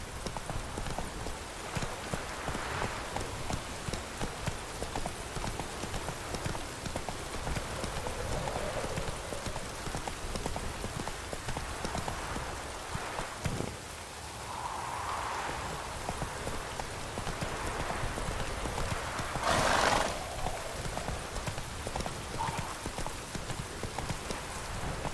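Hooves of Roach, the horse in the video game The Witcher 3, clip-clop in a steady, close rhythm for the whole stretch, mixed with a soft wash of falling rain.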